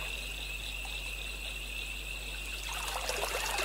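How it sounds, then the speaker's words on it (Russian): Water from a running brook trickles and streams in a steady, soft wash with a faint hum underneath, growing a little busier toward the end. No voices. "сверкающего бликом на поверхности бегущего ручья"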